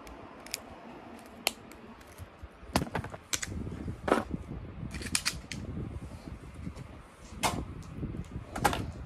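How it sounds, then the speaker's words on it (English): Small jewelry snips cut a length of necklace wire, giving a few faint, sharp clicks over a quiet, rustling background of handling at a work table. "So I'm just going to cut off a length with my snips."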